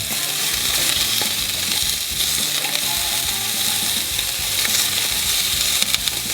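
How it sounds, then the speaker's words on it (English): Meatballs fry in a hot pan with a steady, loud, close sizzle that runs the whole time, joined by faint clicks near the end and no talk. "Already getting a nice crisp on one side in this hot,"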